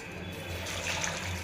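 Water splashes and trickles steadily into a cooking pot of bottle gourd and moong dal, a soft continuous pouring sound close by.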